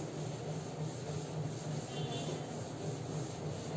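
Writing is rubbed off a classroom board with a duster, a steady close scrubbing hiss that continues without a break over a low hum, with no talk.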